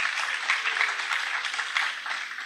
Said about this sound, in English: Can you please give applause for Associate Professor Deidre O'Neill?